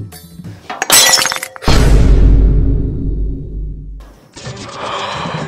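A tea cup or glass breaks during house cleaning with a sudden loud shatter. A long, clattering crash of shards follows and dies away, then a burst of scattered noise.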